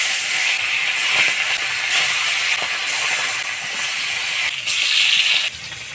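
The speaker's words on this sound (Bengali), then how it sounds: "তেল গরম হয়ে গেছে, এবার মাছগুলো দিয়ে দিব।" Hilsa fish frying in hot oil in a wok, a loud continuous crackling sizzle that stays strong throughout with brief surges and a sudden drop at the end.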